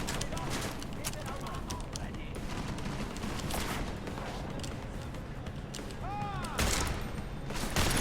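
Gunshots ring out in the Deus Ex: Mankind Divided video game: a dense run of repeated shots over a noisy game mix. A speaking voice runs under part of the firing.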